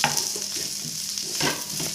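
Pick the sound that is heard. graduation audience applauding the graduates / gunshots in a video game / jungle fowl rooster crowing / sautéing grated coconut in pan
sautéing grated coconut in pan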